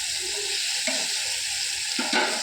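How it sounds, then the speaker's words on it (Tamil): Paneer frying in a pan gives a steady sizzle, with a few soft stirring scrapes near the middle and the end. Nobody speaks. "அந்த அளவுக்கு வறுப்படணும்"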